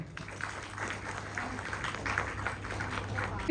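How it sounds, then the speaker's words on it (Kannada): An audience applauds at a film press meet, with steady scattered clapping from a room full of people that sounds moderately distant and stays fairly even, with a faint voice underneath. "ಚಪ್ಪಾಳೆ."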